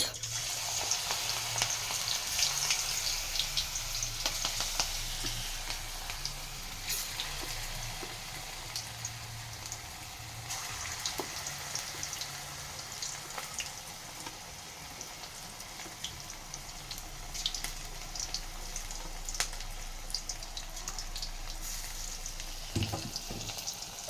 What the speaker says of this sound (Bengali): এই যে পেঁয়াজের পকোড়ি এই যে ভাজা শেষ হয়ে গেল।